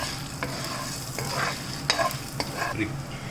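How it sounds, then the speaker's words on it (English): Red chillies frying in a pan for sambar give a steady close sizzle, with a few sharp ticks and stirring scrapes over about three seconds and no voices. "So this has to roast for it has to fry up for about a minute or so till it gets a good color"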